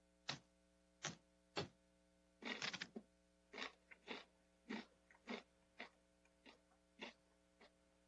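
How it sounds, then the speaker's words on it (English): A person chewing close to an open microphone on a conference call, with a series of sharp repeated mouth clicks and smacks at an irregular rhythm, loud against a quiet background hum. "Somebody's chewing."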